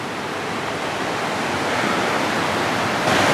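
Steady, loud rush of a river flowing through a walled canyon, a continuous broadband wash of water with no pauses, slightly swelling toward the end, no voices.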